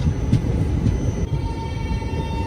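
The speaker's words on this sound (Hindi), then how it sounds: "डोसा से डिपार्चर होता हुआ दौलतपुर चौक एक्सप्रेस" The Daulatpur Chowk Express, a Sabarmati Express service, pulling out of Dausa station, heard as a steady rumble of rolling coaches with a faint high wheel tone and no talking.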